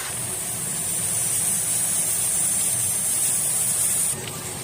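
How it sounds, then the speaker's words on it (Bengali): A hilsa fish head with potato, pumpkin, eggplant and spices sizzles in a hot pan while being stir-fried, producing a steady, even hiss that holds throughout and eases slightly at the end. "কষিয়ে ভালো করে মশলাপাতি দিয়ে দিয়েছি, শুধু কষাচ্ছি"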